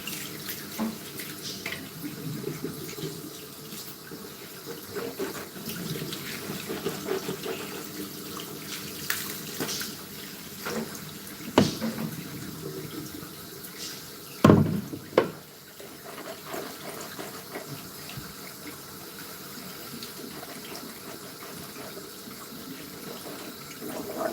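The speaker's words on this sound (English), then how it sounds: "I'm gonna rinse my mouth out with regular water first" Tap water runs steadily into a sink while someone rinses their mouth, with a constant hiss broken by a few louder splashes and gurgles, and no speech.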